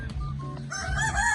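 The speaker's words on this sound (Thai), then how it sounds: "เป็ดไก่กระลายคือเพื่อนผมนะครับ" A rooster crows once, close by, in a rural Lao village near Nakai, a short, bright call with no talking over it.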